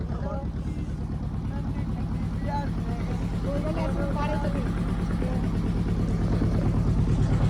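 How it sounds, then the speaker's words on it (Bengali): A motorboat chugs along on a river trip through the Sundarbans, its engine a steady, loud, low throb throughout while several people talk over it. "আমরা এখন নৌকার উপর দিয়ে যাচ্ছি"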